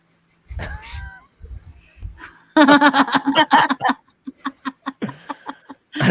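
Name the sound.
voice imitating cat meowing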